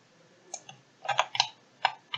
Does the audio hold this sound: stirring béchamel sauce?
no